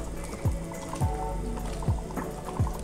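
Oxtail meat bubbling in a pot of soup, a close, steady burbling with rounded bubble pops coming every half second or so over a constant simmering wash.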